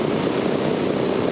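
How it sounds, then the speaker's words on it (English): Propeller engines of a World War II B-17 Flying Fortress bomber drone loudly and steadily, a dense continuous roar with no voices. "One of just 9 World War II B-17 flying fortresses left in the world is on display in Johnson County"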